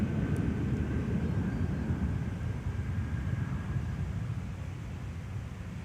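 An American airliner takes off from runway 12 right at Minneapolis–St. Paul Airport, a steady broadband engine roar holding loud and constant throughout with a faint tonal whine above it.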